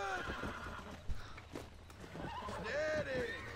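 In Red Dead Redemption, a horse whinnies loudly and its hooves clip-clop beneath, with someone talking over the game sounds.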